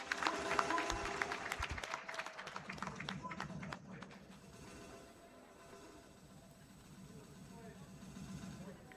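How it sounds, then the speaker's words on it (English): Scattered audience clapping at the closing day of the Health Integration Summit 2026, acknowledging Nakuru County, strongest at the start then fading into background murmur and talk. "A big clap for Nakuru County."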